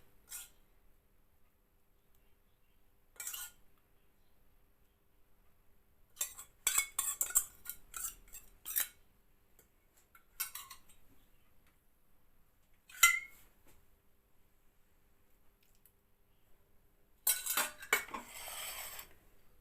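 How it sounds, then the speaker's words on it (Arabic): Short bursts of a metal spoon scraping and clinking against a pan while leftover chermoula is spooned over kefta meatballs, scattered clatters separated by quiet pauses, near and without speech. "هاد الشرموله اللي باقا لي ندوزو فوق هاد الكويرات"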